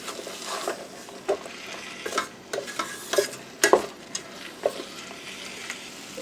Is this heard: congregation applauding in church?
no